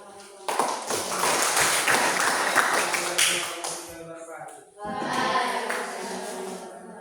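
Students in a classroom audience clap in a sustained burst of dense patter, briefly dipping before a second round of applause, with voices underneath.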